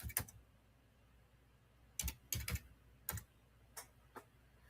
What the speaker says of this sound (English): let me type over here